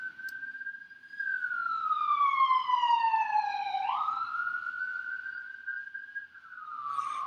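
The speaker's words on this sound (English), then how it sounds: "Pause for a siren." A siren passes outside, its wailing tone sweeping down and back up in a long, smooth cycle, loud and clear with little else around it.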